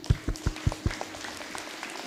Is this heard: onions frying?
no